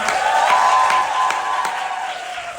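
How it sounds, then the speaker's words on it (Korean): A theatre audience claps and cheers for an actor during a stage greeting after the last performance of a musical, a dense, loud wash of applause that slowly fades over a couple of seconds. "백기 홍배님 가장 큰 박수와 함성 부탁드리겠습니다."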